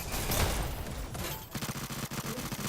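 Rapid SMG fire crackles in a VR esports shooter match, dense overlapping bursts close and loud, with a brief lull partway before tight repeated shots resume.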